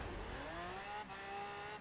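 Mosler MT900S revving hard down a festival drag strip in a racing video game, a loud continuous engine whine with harmonics that climb steadily, briefly dip at a gear change, then climb again.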